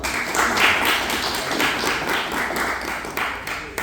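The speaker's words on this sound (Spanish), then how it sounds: "un aplauso una vez más" Applause at a book presentation for the book Honores, following a tribute to mother, homeland and language; a dense burst of many hands clapping close by, loud at first and slowly thinning toward the end.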